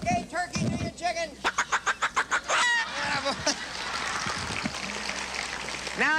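A trained bird at a Universal Studios animal show imitates a chicken, giving a quick run of about eight sharp, rhythmic clucks, followed by looser squawks, close and fairly loud, with a presenter talking around it.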